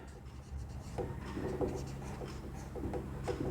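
A pen writes on paper during a math lesson, producing faint, close scratching strokes in short irregular bursts over a low background hum.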